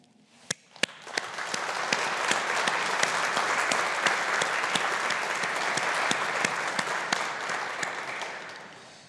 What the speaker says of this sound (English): show your appreciation and gratitude with a sincerely felt round of applause for those with you today